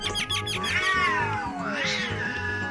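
Cats meowing as a sound effect, a long drawn-out yowl that slides downward and is followed by a second rising meow, loud and close with other cat cries layered beneath.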